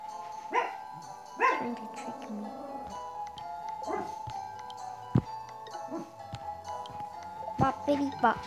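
Dog barks and yips in a video game come in short bursts, with an electronic background tone running underneath.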